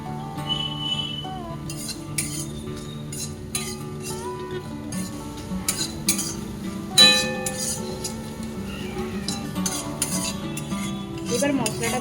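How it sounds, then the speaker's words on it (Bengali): Whole spices, including dried chilli, cardamom, cinnamon, panch phoron, fennel, cumin and a bay leaf, are dry-roasted in a pan, with repeated metallic clinks and scraping of a utensil against the pan, loud and close, with no talk. "এবার আমি শুকনো খোলায় ভেজে নেব।"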